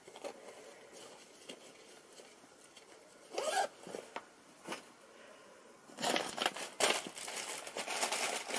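Knitting kit packaging from Maddie Harvey being handled, soft crinkling and rustling of plastic with louder crackly bursts, close and quiet.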